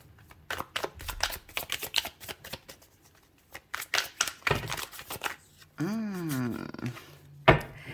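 Rapid riffling bursts of tarot cards being shuffled, close up, in repeated quick runs with a short pause between them, then a few clacks near the end.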